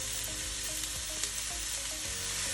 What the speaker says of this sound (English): You just want to saute that in the olive oil until it gets nice and golden